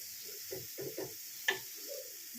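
Chicken sizzling in butter on a tawa, a faint steady hiss with a few soft scraping and tapping touches and one small sharp click, quiet and without voices.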